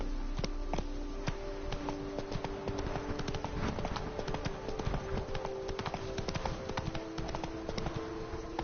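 Horse hooves clip-clop at a steady galloping rhythm in The Witcher 3: Wild Hunt, Blood and Wine, close and continuous over a low ambient bed with a faint hum.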